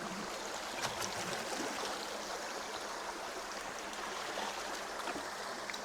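Water pours steadily into a bucket to soak clay for gold-mining paydirt, making a continuous close rushing and splashing with no pauses or talk.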